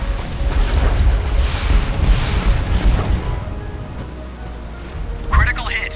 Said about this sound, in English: Critical hit. Reporting ammo detonation.